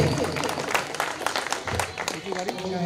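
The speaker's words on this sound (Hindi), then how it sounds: "एक बार जोरदार तालियां इन बच्चों के लिए फिर से।" A crowd at a school event claps for the children on stage, a lively mass of hands with scattered sharp claps, while talk and shouting from people nearby run over it.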